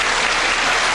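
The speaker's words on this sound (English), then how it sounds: "he's getting a big round of applause, Mark Jarvis is" Applause from the crowd at a 1995 World Pool Championship eight-ball match, a loud, dense burst of clapping filling the whole moment.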